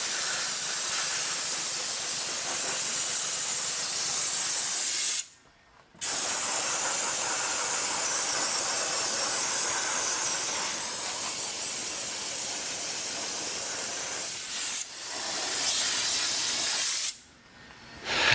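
Loud, sustained dry ice blasting hisses at close range while cleaning the front suspension area of an E92 BMW M3. The roar cuts out briefly twice and resumes each time, with no talking.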